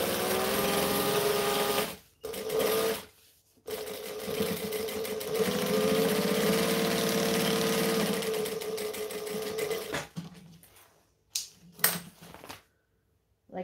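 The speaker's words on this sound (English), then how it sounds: "I'm going to put this right sides together and stitch. This is a half inch seam allowance." A sewing machine runs a half inch seam on a custom order, a steady rapid stitching hum that stops briefly twice, then gives way to a few short bursts and clicks near the end, with no voices.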